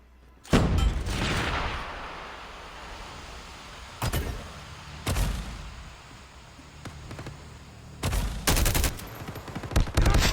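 Gunfire in the mobile battle royale game Call of Duty Mobile: several loud bursts of shots in clusters, a long volley at the start and more around four, five and eight seconds, over a steady background hum with no talking.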